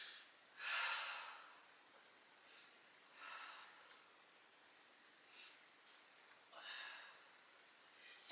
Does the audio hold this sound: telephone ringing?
no